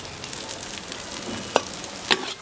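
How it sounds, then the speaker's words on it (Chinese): Fermented black beans (douchi) stir-fry in a hot wok, giving a steady close sizzle with a couple of sharp clinks from the spatula against the pan, and no talking. "这豆豉稍微炒一下，也不能炒太久，炒太久就会苦。"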